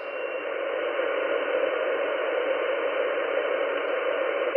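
A Xiegu G90 ham radio transceiver hisses with steady band-limited static as it receives, a constant close noise with no talking or clear signal tones.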